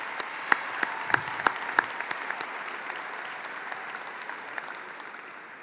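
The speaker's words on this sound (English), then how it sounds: "They deserve a round of applause." High school commencement crowd applauding graduates' families, a steady wash of clapping with a few sharper claps near the start, moderately distant and gradually fading.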